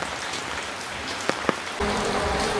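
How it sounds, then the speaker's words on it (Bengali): Rain patters steadily on a surface, with a couple of sharper drip-like taps, then the downpour swells louder and denser near the end. "অনেক বৃষ্টি হইতেছে"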